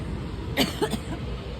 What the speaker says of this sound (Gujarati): મમ્મી ઉધરસ થઈ ગઈ